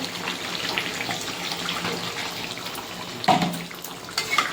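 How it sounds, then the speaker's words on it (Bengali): Mutton stock is poured into a biryani pot, giving a steady watery splash and gush that runs throughout, with a brief louder surge near the end. "এবার দিয়ে দেবো মাটনের জল।"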